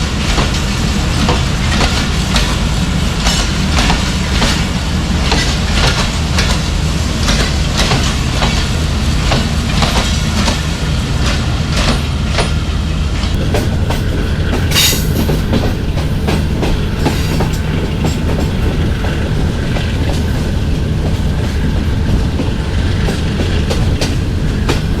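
Sir Syed Express passenger train running on rails, heard from on board: a loud, steady rumble with rapid clickety-clack of wheels over rail joints throughout, a brief sharp squeal midway, no voices.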